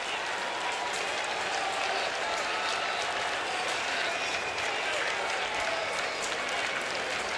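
Enthusiastic early-afternoon crowd at a baseball stadium, Rockies at Mets, applauding steadily and loudly throughout, a dense unbroken wash of clapping and cheering with no individual voices standing out.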